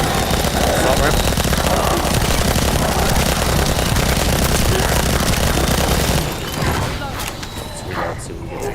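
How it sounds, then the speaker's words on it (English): Rapid, continuous assault rifle fire in the shooter video game The First Descendant, loud and dense bursts for about six seconds before cutting off, with a voice talking over the gunfire. "They buffed the fallen hope too, though. Assault rifle."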